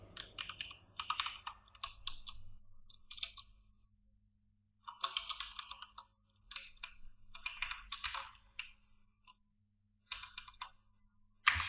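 Fingers type on a computer keyboard in quick bursts of clicky keystrokes separated by short pauses, close and fairly quiet over a faint steady hum.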